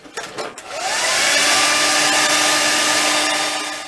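A hair dryer whirs up after a few clunks and then blows loudly and steadily with a high whine, used to heat an action figure.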